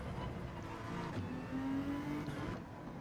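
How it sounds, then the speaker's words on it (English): Tyres of a Honda NSX GT3 squeal in Gran Turismo 7, a rising tonal whine held for about a second over a steady, loud racing engine drone that runs throughout. "Had a loud squeal of the tyres just then as we came off that corner"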